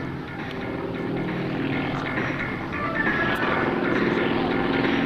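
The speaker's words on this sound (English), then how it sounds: "you saw Nikolai Timofeyev, and he was flying the single-seat version of this airplane, the Su-26." Two-seat Su-26 aerobatic propeller airplane performing at an airshow, a continuous buzzing engine and propeller drone at moderate distance that swells slightly toward the end.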